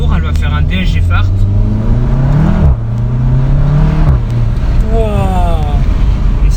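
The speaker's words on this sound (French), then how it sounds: "T'accélères un peu et au passage entre 3 au-dessus de 3500 tours, elle va faire un DSG Fart." A Seat Cupra Stage 1 with a DSG gearbox revs hard under acceleration, its loud engine note climbing through the gears, with a sharp crackle at each shift past 3500 rpm, close by and heard from inside the car, with people talking over it.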